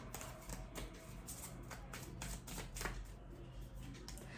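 Tarot cards are shuffled and drawn in a soft, continuous run of rapid flicks and riffles that sounds close but quiet, with no talk over it.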